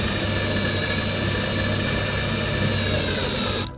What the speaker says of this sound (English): and I just drill here